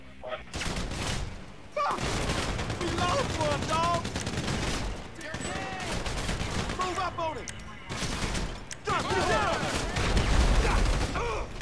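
Heavy, sustained gunfire in GTA V Online during a four-player survival fight on Del Perro Pier, with rapid overlapping volleys and brief lulls between loud bursts, plus players' voices mixed in.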